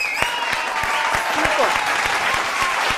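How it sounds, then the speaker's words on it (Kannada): Studio audience claps loudly for the orchestra on a Kannada singing reality show stage, a dense, steady burst of applause filling the whole stretch with faint voices mixed in. "ಮೊದಲನೇದಾಗಿ ನಮ್ಮ ವಾದ್ಯ ವೃಂದದವರಿಗೆ ಬರಲಿ ಜೋರ್ ಚಪ್ಪಾಳೆ"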